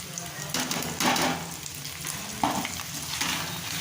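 Chicken curry masala with turmeric, Kashmiri chilli powder and salt is fried over low to medium heat, a close, steady sizzle with bursts of scraping as it is stirred, and no voices.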